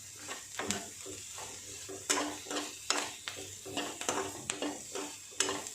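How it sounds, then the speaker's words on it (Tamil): Green chillies sauté in a pan for butter paneer, with a steady soft sizzle under rhythmic scraping strokes of a spoon stirring repeatedly, close by and with no one speaking. "இதை நல்லா இதுலேயே கொஞ்சம் ஒரு 2 மினிட்ஸ் நல்லா வதக்கினா போதும்."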